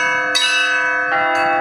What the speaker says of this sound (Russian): Малые колокола называются тройкой зазвонных.